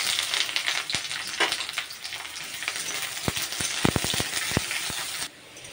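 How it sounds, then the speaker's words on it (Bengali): Garlic cloves and a whole onion fry in hot oil with a steady, loud sizzle and occasional sharp pops and crackles. No voices are heard. "আর এখানে আমি ভেজে নিচ্ছি কয়েকটা রসুন, আর ভেজে নিচ্ছি একটা গোটা পেঁয়াজ।"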